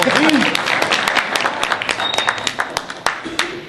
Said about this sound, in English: Okay, now clap for me.